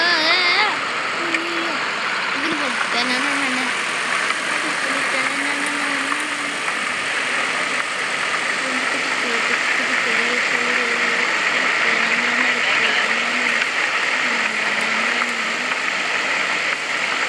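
A car engine in the driving game A Dusty Trip runs at a steady idle-like hum, its pitch wavering slightly throughout, while people talk over it.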